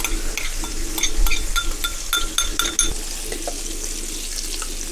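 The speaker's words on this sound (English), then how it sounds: "Now I will add the capers and 1 tablespoon of parsley." Capers and parsley frying in butter on a Pit Boss Ultimate 2 gas griddle, a bright crackling sizzle with sharp pops and clicks up close, then settling into a steady hiss.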